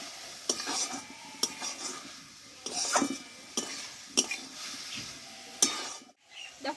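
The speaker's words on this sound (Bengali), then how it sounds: "এভাবে কিছুক্ষণ নাড়াচাড়া করে আমি রান্নাটা করে নেবো" Pea greens cook in a pan while being stirred, giving soft sizzling under a series of sharp spoon-on-pan scrapes and clicks at irregular intervals, close and fairly quiet.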